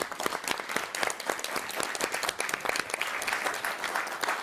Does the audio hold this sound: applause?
yes